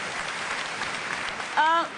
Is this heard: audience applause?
yes